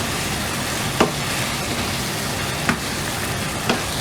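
Cooked chicken is stirred into sizzling masala in a handi pot, a steady close frying hiss broken by three brief clinks of the spoon against the pot.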